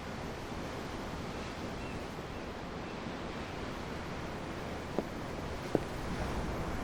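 Ocean surf from the video game Tales of Arise, heard from aboard a ship: a steady, full wash of waves rolling on without pause, with a couple of faint knocks near the end.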